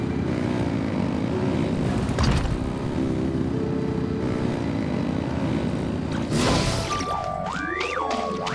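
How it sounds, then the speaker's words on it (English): Engines rev up in Genshin Impact during a Nod Krai quest scene, a steady loud mechanical drone with a rising whoosh and swelling tones near the end, no speech. "Rev the engines!"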